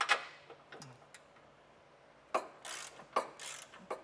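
A hand ratchet fitted with an 18 mm socket loosens bumper stud nuts on a 2021 Jeep, with short bursts of crisp clicking separated by pauses, close-up and without talk.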